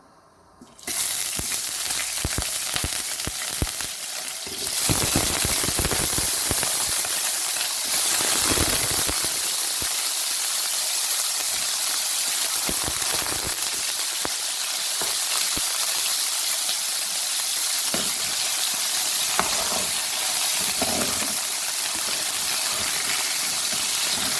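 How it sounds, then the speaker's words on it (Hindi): Potatoes hit leftover hot oil in a pan and set off a loud, close, hissing sizzle that holds steady and dense for over twenty seconds, with scattered crackles and pops and no talking. "अब इसी बचे हुए ऑयल में हम डालेंगे अपने आलू।"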